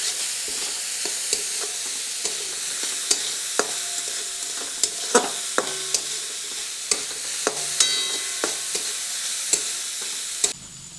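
Vegetables for a paneer momo filling fry in a pan, a steady sizzle broken by sharp scraping clicks of a spatula stirring at irregular intervals, close and alone.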